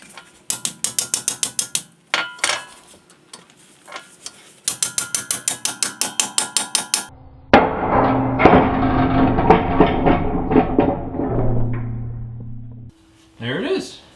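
Repeated sharp metallic hammer blows on a pickle fork driven between the tie rod end and knuckle of a 2017 Ford F250 front end, two quick bursts of rhythmic strikes followed by a clanking, rattling release as the joint separates.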